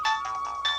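A mobile phone rings with a short, steady electronic tone held briefly at close range, with no talking over it.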